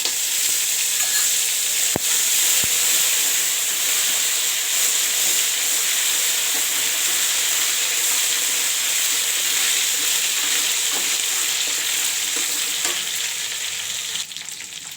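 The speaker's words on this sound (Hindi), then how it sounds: "अदरक लहसुन फ्राई होगा" Ginger garlic paste frying in a pan with curry leaves for a masala fish curry, a steady close sizzle and hiss running unbroken with faint stirring clicks, no talking.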